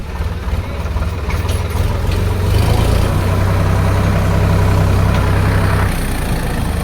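A farm tractor's diesel engine idles steadily with a low, throbbing rumble close by, growing slightly louder partway through and holding an even chugging rhythm with no speech over it.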